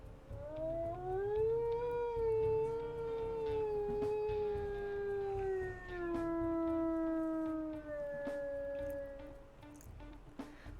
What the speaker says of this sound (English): Ah, yes, another long howl.